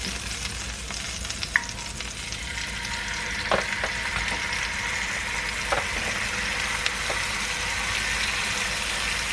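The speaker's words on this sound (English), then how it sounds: "Okay, so we're gonna cook up all this chicken." Chicken frying in a hot pan: a constant close sizzle with scattered pops and crackles, steady throughout with no voices.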